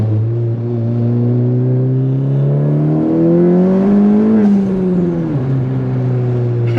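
A 10th-generation Honda Civic Si pulls hard in second gear, engine note climbing steadily in a loud, close revving drone before a brief dip and shift near the end, heard from inside the cabin.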